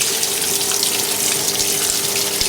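A 2002 Kelvinator K605 washing machine's finned agitator churns water on a regular cycle, a steady loud sloshing rush with faint low knocks underneath, continuous and close.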